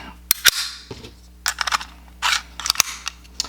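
A Makarov pistol's slide is racked to chamber a round from a modern magazine: sharp, close metallic clacks and snaps in quick bursts, with brief scraping rattles between them and no talking.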